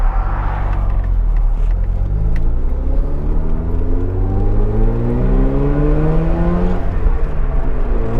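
A Mazda RX7 FB rotary engine revs hard while accelerating onto a main road. The loud, close whine climbs through the gears with rising and falling pitch sweeps, and no one speaks over it.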